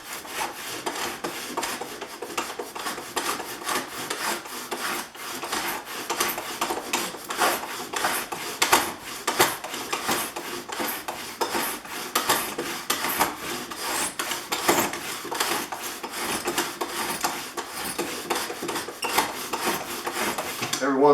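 Steady rasping scrape of a Stanley 444 dovetail plane cutting wood, repeated close strokes running continuously with little pause, fence riding against a batten board.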